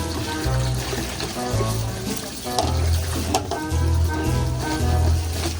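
Tap water runs steadily while clothes are hand-washed without a basin, a continuous rushing splash with low, uneven gurgling underneath throughout.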